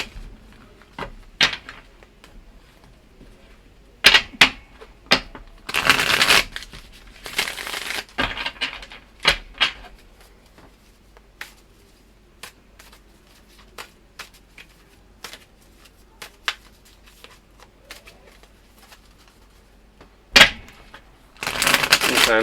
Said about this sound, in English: when I'm shuffling, I can't find the right one, and I have to keep shuffling until I find it